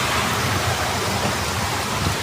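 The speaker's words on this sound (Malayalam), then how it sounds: "അത്യപൂർവമായ കാറ്റാണ്." Heavy rain in strong wind, a loud, constant hiss of downpour that fills the whole clip without pause or speech.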